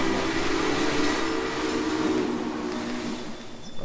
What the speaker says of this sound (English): Passing train, nowhere to be seen.